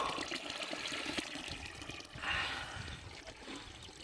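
Water runs from a spring fountain near Karagöl in Ulukışla, Niğde, as a faint, continuous splashing trickle with a slight surge midway.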